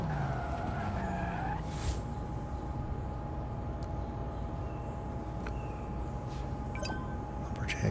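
A Lamborghini Murcielago in a video game skids with a brief descending tire squeal at the start, followed by a steady engine drone and faint game effects.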